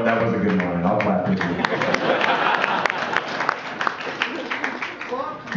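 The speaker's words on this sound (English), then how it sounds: "I'll clap" An audience claps and applauds for a few seconds, a dense spatter of hands that thins out toward the end, with a voice heard at the start.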